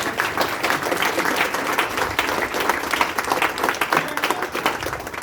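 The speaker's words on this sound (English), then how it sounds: "You all deserve a huge round of applause." A room full of people applauds the painters and decorators at a Preston community hub gathering, dense steady clapping sustained and fairly close throughout with no voices over it.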